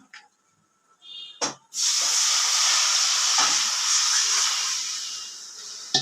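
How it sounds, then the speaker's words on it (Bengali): Fish sizzles in hot oil in a pan for Bengali home cooking. A few soft knocks and clicks come first, then a loud, steady hiss starts abruptly and holds to the end. "এইদিকে মাছটা ভাজা করছি"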